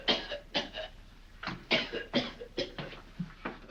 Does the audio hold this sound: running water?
no